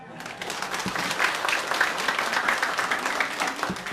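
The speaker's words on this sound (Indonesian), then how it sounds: "Tepuk tangan dong." Audience at a Balinese bondres comedy performance claps together, a sustained crackling round of applause that swells from a soft start, peaks mid-way and stays fairly steady at moderate volume.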